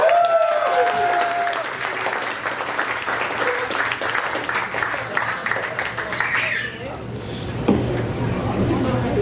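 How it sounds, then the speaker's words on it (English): An audience at a Spean Rajana 2018 evening event claps for the singers as they come up to the stage. The broad applause runs throughout, with a few tonal and clattering noises over it near the start and again partway through. "Please give them a round of applause."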